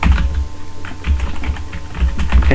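Rapid, steady typing of text on a computer keyboard, with close, crisp key clicks in a continuous run and no talking.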